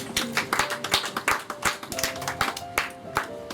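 A church congregation at a Sunday worship service claps in response to scripture, a steady patter of many hands, close and fairly loud, with a faint hum of voices underneath.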